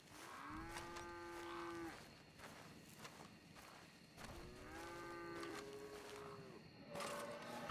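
Cows moo in the open-world game Red Dead Redemption 2, with two long, drawn-out bellows and a shorter third call at a moderate distance, plus faint footsteps and ambient game noise underneath.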